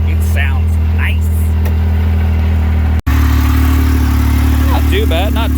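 A 2017 Yamaha YXZ1000R SS side-by-side engine runs at a steady, loud idle throughout, with a brief cut near the middle and people talking over it.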